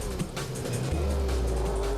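Sidecar racing outfits roar off the line at the start of a heat, engines blaring in a dense, continuous drone that climbs in pitch midway as they accelerate away.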